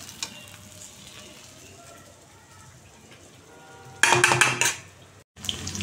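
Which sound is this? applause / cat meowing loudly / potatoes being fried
potatoes being fried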